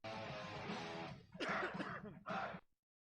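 A person's cough played back at close range: a rough throat-clearing burst runs for about a second, then two short, loud coughs follow, with silence at the end.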